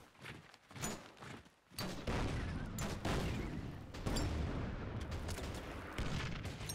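Gunfire in the World War II strategy game Order of Battle: Kriegsmarine, during the Fall of Poland campaign: a dense, continuous rattle of shots and heavy thuds rolls on throughout, with a louder swell after the first couple of seconds.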